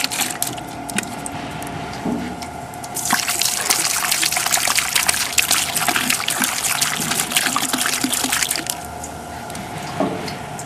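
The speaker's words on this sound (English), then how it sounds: "So simply pour some xylene in the A side and the B side." Xylene cleaning fluid poured into the A and B side tanks of a Cretefill machine during cleanup, a steady splashing, gushing flow that grows louder midway and continues throughout, close by with no talking.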